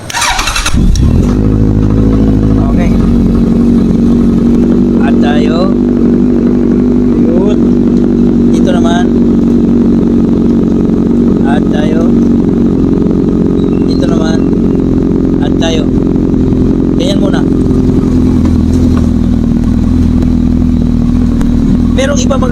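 A Suzuki GSX1400 motorcycle engine, fitted with an oil cooler and Power Commander, cranks and catches, then idles loudly and steadily throughout, with clattering mechanical noise and faint voices in the background.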